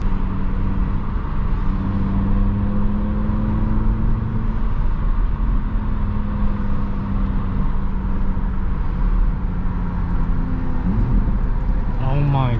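Stock exhaust and engine of an Audi RS3 with DSG gearbox, heard from inside while driving: a steady, loud droning engine note with rising revs near the end, and people talking over it throughout.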